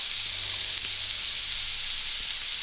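Steady, close sizzling of mushrooms frying in a pan, a continuous crackling hiss with occasional pops.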